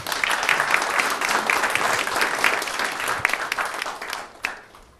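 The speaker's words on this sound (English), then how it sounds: "Please give him a round of applause." A tech-conference audience applauds a speaker introduced to talk on test-driven development, producing a dense, continuous burst of clapping that holds steady, then tapers off at the end.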